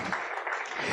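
Congregation in a church service clapping together in a strong round of applause, a dense steady wash of many hands sustained throughout.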